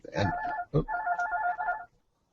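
A telephone ringing at a radio station, a steady electronic trill lasting about a second and a half, heard close with a brief knock before it and fading out.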